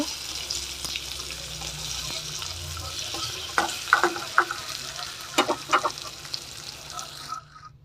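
Fried eggs turned over one at a time in a wok of hot oil: a continuous soft sizzle punctuated by several sharp spatula scrapes and clinks, ending abruptly.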